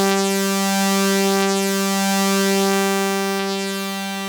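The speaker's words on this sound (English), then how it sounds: "it's got some grit and some attitude now." Behringer Pro 1 analog synth with oscillator B modulating the filter cutoff, a sustained loud gritty buzzing note with rough, growling texture and slight periodic shifts over about four seconds, no talking.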